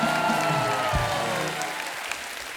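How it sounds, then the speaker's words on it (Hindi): A studio audience at a comedy talk show breaks into loud, sustained applause that continues steadily and fades slightly toward the end, with no voices over it. "एक बार जोरदार तालियां हो जाएं पंजाब के शेर के लिए"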